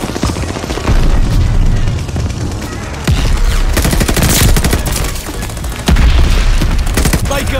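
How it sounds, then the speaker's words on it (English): Rapid gunfire and repeated booming shell explosions in a video game battle, loud and dense throughout, with heavier bursts punctuating the steady barrage. "Enemy shells coming in hot."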